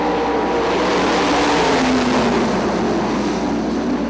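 Sprint cars on a dirt oval at Ionia Raceway Park roar as they take the green flag and accelerate, a loud, dense and steady engine drone that swells slightly across the whole stretch with no one talking.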